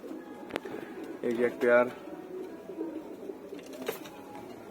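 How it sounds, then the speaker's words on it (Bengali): Pigeons in a racing cage give a few soft coos, quiet and close, under someone talking. "আর এখন আমি এখানে কয়েক পেয়ার কবুতর দিছি"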